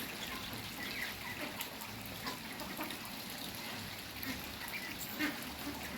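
Sixty-day-old farmed ducks paddle in water, with scattered quacks over a steady wet splashing and trickling background. The birds sound at moderate distance and there is no talk.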